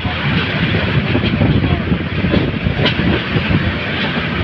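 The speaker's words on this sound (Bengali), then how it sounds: "ঢাকা ক্যান্টনমেন্ট রেল স্টেশন আসা ট্রেনটি স্লো করেছে" A Kalni Express train runs steadily on rails near Dhaka Cantonment, its loud continuous rumble and clatter filling the recording without break.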